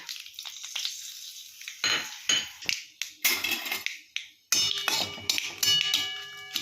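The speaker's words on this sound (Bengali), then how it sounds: "তো তেল গরম হয়ে গেছে, এবার আমি ফোড়নগুলো দিয়ে দেবো" Dry red chilli, bay leaf and black mustard seeds hit hot oil in a pan, giving bursts of sizzling and crackling along with clinks and scrapes of a utensil against the pan, close by and with no talk.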